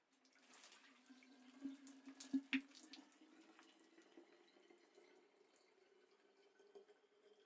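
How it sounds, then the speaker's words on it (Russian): Water is poured into a container of unwashed berries for homemade wine, a faint, quiet trickle with a few brief splashes and drips in the middle. "Переливаем воду."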